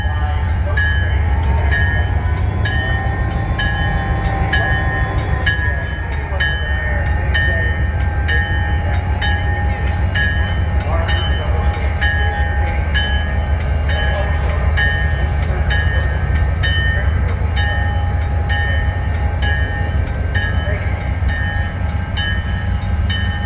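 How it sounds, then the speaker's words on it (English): A Green Bay Western (Green Bay Route) Alco diesel locomotive pulling a caboose train at a railway museum's diesel days event, with a steady loud rumble of the engine, a sustained horn-like tone, and brief voices in the background. "we have our Green Bay Western, Green Bay route, Alco, about ready to pull away with the caboose train"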